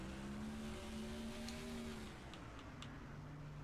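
A race car engine in the NASCAR Thunder 2004 video game drones steadily at high revs, a continuous loud buzzing tone that shifts pitch slightly as the car speeds on.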